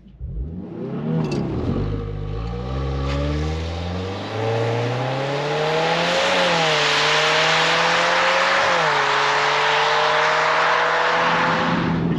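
Automatic all-wheel-drive 2022 Subaru WRX accelerating hard from a standstill, the engine revving loudly and climbing through several rising pitch sweeps with brief dips at the gear shifts, then a sustained high roar heard from inside the cabin.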